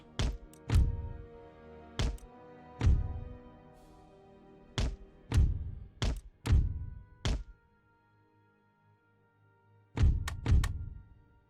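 Cannons firing at a fortress wall in Empire: Total War, a series of heavy booming thuds with sharp attacks, some in quick pairs, spaced irregularly across the stretch with quiet gaps between volleys.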